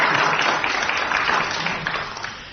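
Studio audience applause at a quiz show, a dense burst of clapping that starts full and gradually fades over a couple of seconds.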